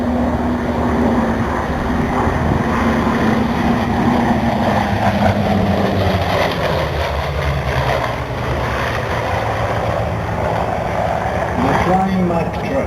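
Three Douglas AD-4 Skyraider single-engine piston aircraft flying at the Duxford Flying Legends airshow, a loud continuous engine drone rising and falling as they pass, under a commentator's voice over the PA.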